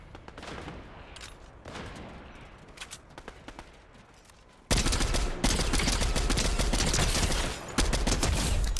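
Rapid gunfire erupts in a chaotic shootout, scattered shots at first, then a sudden loud, sustained barrage of overlapping bursts that continues nearly without pause to the end.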